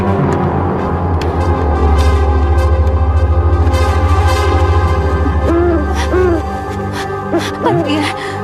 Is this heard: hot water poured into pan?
no